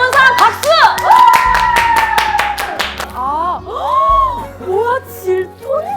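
A small group of friends at a casual drinking gathering claps, with tonal sounds and a low hum layered underneath.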